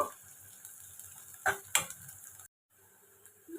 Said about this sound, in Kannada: ಈ ಥರ ಮೆಣಸಿನ್ಕಾಯಿ, ಶುಂಠಿ, ಬೆಳ್ಳುಳ್ಳಿ ಎಲ್ಲ ಹಾಕಿದ್ಮೇಲೆ ಈ ಥರ ಫ್ರೈ ಆಗಿರುತ್ತೆ